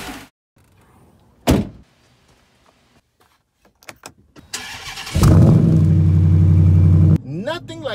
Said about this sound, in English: Nothing like the sweet, sweet sound of Hemi in the morning